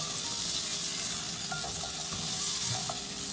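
Spices roasting in a pan for a Punjabi green mango sabzi make a steady, close sizzle with faint scraping from stirring, continuous and even throughout, with no voices.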